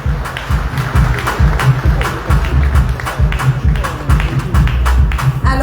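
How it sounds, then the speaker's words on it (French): An audience at a 2024 sports award reception claps steadily and loudly, with a rhythmic pulse running through the applause and low thumps underneath. "on applaudit très fort"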